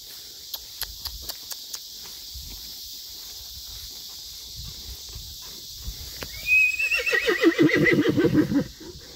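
A 15-year-old gentle gelding gives a long, loud, wavering whinny near the end, preceded by a few light, spaced ticks that may be hoofsteps over quiet outdoor background.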